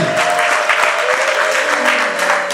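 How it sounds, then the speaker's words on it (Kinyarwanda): Applause from an audience at a Kinyarwanda church gathering, dense steady clapping filling the room with a sustained tone running beneath, loud and continuous throughout. "Amashyi menshi, urufaya,"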